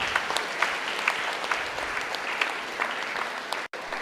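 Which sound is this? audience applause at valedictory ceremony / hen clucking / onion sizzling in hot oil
audience applause at valedictory ceremony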